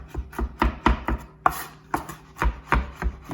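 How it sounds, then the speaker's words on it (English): Knife chopping and mincing garlic on a cutting board, a steady run of close, crisp blade taps at an uneven rhythm, with no voices. "So I tend to just chop my garlic, mince it really fine."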